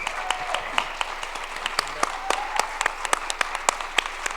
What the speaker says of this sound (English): Can you give Amanda and Bob another round of applause?